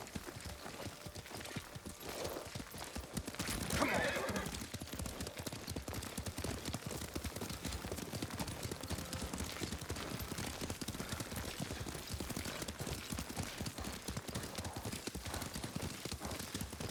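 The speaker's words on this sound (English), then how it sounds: "Lord Sakai taught me to ride a horse." Horse hooves in the video game Ghost of Tsushima clip-clop in a steady, rapid rhythm at moderate distance, continuing throughout with a brief louder burst of activity early on.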